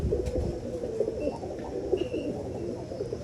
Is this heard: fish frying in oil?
no